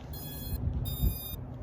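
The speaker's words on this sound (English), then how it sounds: "It should beep like this." Two bright high-pitched electronic beeps, each about half a second long, separated by a short gap, over a low background hum, as a Holy Stone HS510 drone powers on.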